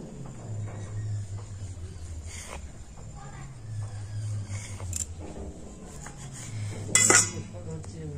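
Knife cutting rolled biscuit dough into pieces on a board, with faint soft taps and clinks over a low steady hum, one brighter clink near the end.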